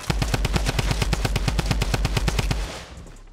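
Rapid automatic gunfire in Fortnite Battle Royale, a steady burst of evenly spaced loud shots for about two and a half seconds before cutting off into a fading tail.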